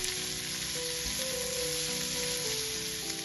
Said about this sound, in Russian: Добавляю его к луку, перемешиваю и обжариваю еще несколько минут.